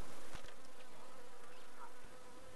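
Honey bees buzz steadily around an open hive while supers are cleared during honey harvest in Africa, a close, continuous drone of many wings with a few brief louder passes.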